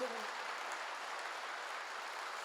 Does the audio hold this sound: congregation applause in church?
yes